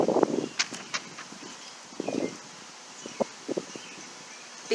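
Outdoor wind gusts stir tree leaves, giving soft intermittent rustling bursts at close range over a faint steady background hiss.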